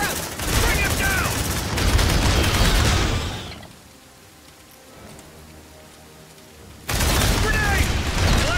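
Rapid automatic sentry gun fire in the sci-fi game Aliens: Dark Descent, loud dense bursts at the start and end with a quieter lull between, a voice briefly heard.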